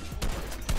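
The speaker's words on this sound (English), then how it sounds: "Let me get some shots off." Gunfire in the video game Fortnite, two sharp shots about half a second apart, crisp and fairly close, with no talk over them.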